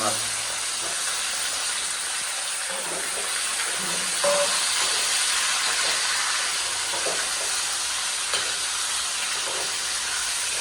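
Chicken frying in a pan gives a continuous close sizzle and hiss with occasional stirring noises, while people talk faintly in the background.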